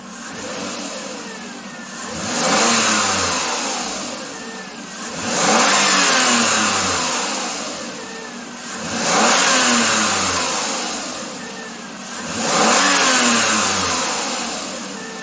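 A Toyota RAV4 with the 3.5 V6 (2GR-FE) engine is revved during a rev test, four rising-and-falling revs spaced evenly, each climbing to a loud roar then settling back to idle, close and alone.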